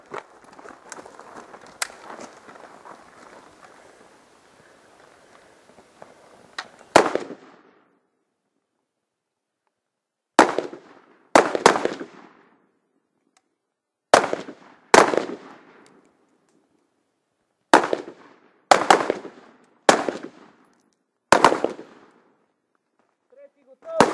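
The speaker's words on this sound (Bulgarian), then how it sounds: "Пети изстрела от коляно!" A series of sharp rifle shots cracks out at an outdoor shooting range during a commando challenge event, first after a stretch of shouted commands, then as eight or so spaced single reports, each loud and near with a short ringing tail.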